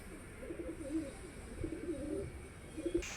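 A male Girebaaz pigeon gives soft, low coos in a few short rolling bursts, fairly faint and close against quiet background hiss.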